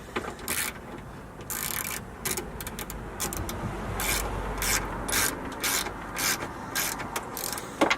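Bolts being tightened on a replacement 2008-style tow mirror fitted to a 1999-2007 Ford Super Duty truck, with repeated quick ratcheting clicks in short bursts, close and fairly loud, and no talking.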